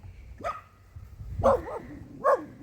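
A dog, a mother with puppies recently spayed, barks outdoors near its den: three separate barks spaced about a second apart, fairly close, over low background noise, with no talk.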